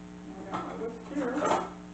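A whisk beats an egg in a bowl, with soft scraping and clinking of metal on the bowl in a few quick bursts over a steady low hum.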